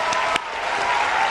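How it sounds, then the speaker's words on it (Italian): A TV studio audience applauds, producing a brief, fairly faint wash of clapping with a couple of sharper claps standing out near the start. "fate l'applauso vostro che è il suo applauso nei confronti del pubblico"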